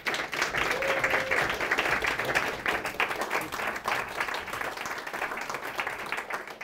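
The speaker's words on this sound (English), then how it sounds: "all of us could hopefully applaud both of these gentlemen" An audience at a city council and school board endorsement event applauds, a full, even burst that thins out slightly toward the end.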